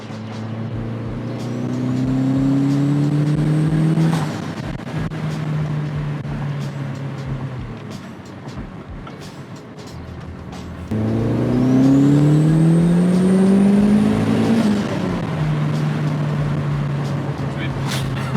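A turbocharged Mazda Miata engine revs hard twice under acceleration, rising in pitch with a turbo whistle on top, each pull ending in a quick diverter valve release as the revs drop. Voices talk quietly in the background.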